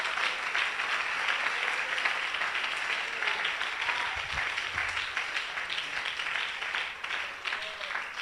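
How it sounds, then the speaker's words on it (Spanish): A church congregation applauds in a continuous, moderately distant wash of clapping that holds steady and fades slightly toward the end, with no clear voices over it. "Del aplausos a Él con el alma."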